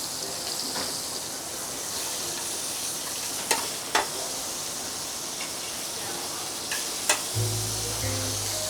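Chapli kebabs sizzle and fry steadily in a pan, with a few sharp clicks from tongs flipping them and a low hum near the end.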